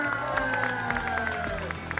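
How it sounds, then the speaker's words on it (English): Crowd applause and cheering for the winners at the 2019 Motobuilds Pilipinas custom motorcycle show, a dense, steady roar of clapping and shouts with a loudspeaker voice faintly underneath. "Big round of applause"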